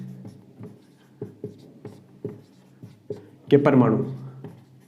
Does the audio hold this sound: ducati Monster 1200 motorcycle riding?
no